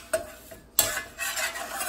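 Chickpea flour being dry-roasted and stirred in a pan: faint, brief scrapes and soft clicks of a utensil against the pan, with a light dry rustle between strokes.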